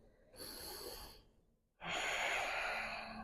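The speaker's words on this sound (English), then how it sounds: "2 breaths here." Slow, audible breathing during a resting yoga pose: a soft inhale followed after a brief pause by a longer, louder exhale, close to the microphone with no talking.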